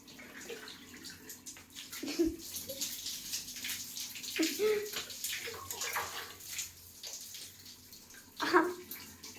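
Water splashes and gurgles as a child is bathed, with soft sloshing and occasional sharper splashes spread across the stretch, fairly quiet and close, with faint voices in the background.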